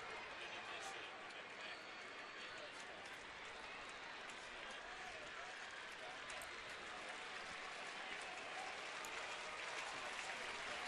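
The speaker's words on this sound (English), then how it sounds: "Boy, the crowd was up. They were ready for it. They wanted to hoot and holler." A ballpark crowd at a Chicago White Sox at Cleveland baseball game, 2009, with two strikes and the bases loaded, keeps up a steady, distant wash of cheering and hollering that does not let up.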